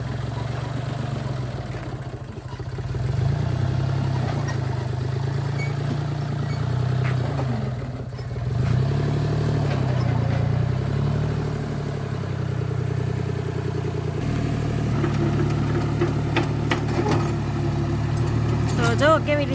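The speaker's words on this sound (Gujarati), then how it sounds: "નવું કટર છે. નાનકડા ટ્રેક્ટરનું લીધું છે કટર." A small tractor carrying a new mounted cutter machine runs on a farm while cutting lucerne fodder, giving a steady low engine drone that swells and eases, with people talking over it.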